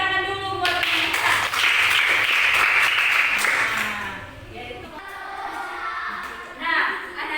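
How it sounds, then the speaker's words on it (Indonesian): Schoolchildren clapping together in a classroom, a loud steady round of applause that fades out and is followed by a short burst of claps, with a teacher's voice and children's chatter around it. "Tepuk tangan dulu buat kita."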